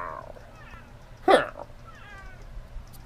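A cat meows once, a short whiny cry standing out near and clear over a quiet room, followed by faint softer sounds.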